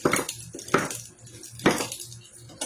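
A knife chops food for stray dogs on a hard board: three sharp, close thuds a beat apart, with faint clinking in between.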